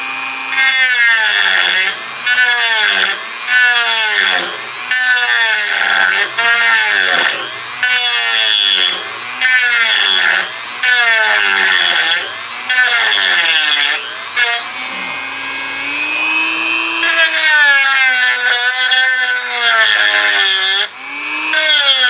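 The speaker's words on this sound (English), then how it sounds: "I can get in there and we can grind it off" A rotary tool grinds metal on a Toro Sand Pro 14 during repair, loud and close, in repeated short whining bursts that end in a longer continuous grind.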